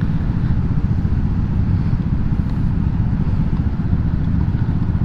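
A Yamaha X-Max scooter is out in road traffic, heard as a loud, constant engine and road rumble with no clear individual pass-by.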